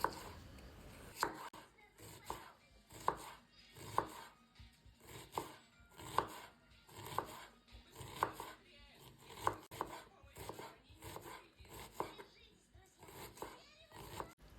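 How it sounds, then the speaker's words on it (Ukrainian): A knife finely chops onions steadily on a board, regular sharp taps about one per second, close and clear, with faint background noise between strokes. "Тепер я беру дві середніх цибулини і також нарізаю дрібненько."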